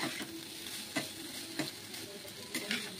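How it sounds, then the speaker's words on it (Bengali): Pasta is stirred in hot oil with potatoes and onions, giving a soft, steady sizzle under light periodic scrapes and taps from the stirring utensil. No voices. "ভাজার পরে পাস্তাটা দিয়ে দিলাম, পাস্তাটা দিয়েও একটু নাড়াচাড়া করলাম"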